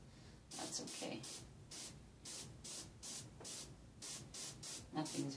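An airbrush gun sprays black paint onto a dragon artwork in a series of short hissing bursts, each lasting under a second, fairly quiet and close, with faint talk in the background.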